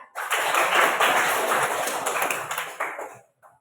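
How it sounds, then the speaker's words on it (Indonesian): A fifth-grade elementary classroom of children bursts into dense, loud group hand clapping that holds steady for about three seconds, then cuts off, followed by a brief faint tap. "Oke, tepuk tangan."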